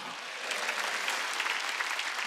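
A church congregation at a Wednesday worship service breaks into sustained, dense clapping that swells after a brief quieter start and continues evenly throughout, with no speech over it.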